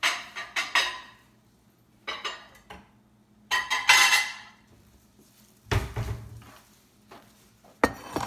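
Ceramic baking dish and utensils clinking as stuffed mushrooms are placed in a pan: scattered close taps and clinks in small clusters separated by quiet gaps, plus a duller thud near the end.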